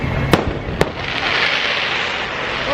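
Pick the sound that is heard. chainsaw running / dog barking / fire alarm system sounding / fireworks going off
fireworks going off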